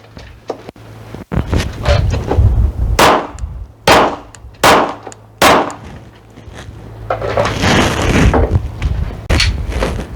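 A rifle fires while being zeroed in cold, high wind: several sharp, loud cracks spaced a second or so apart over constant rumbling wind buffeting.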